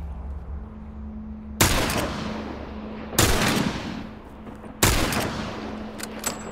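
Three loud, sharp gunshots from The Last of Us, evenly spaced about a second and a half apart, each with a decaying echo over a low ambient hum.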